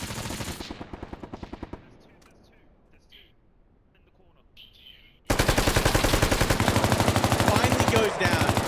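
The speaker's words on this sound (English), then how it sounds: "This machine gunner is going insane right now." Rapid machine gun fire in the video game Bellum, loud sustained bursts at the start and again through the second half, with a quieter gap of scattered distant shots between them, a voice talking over it.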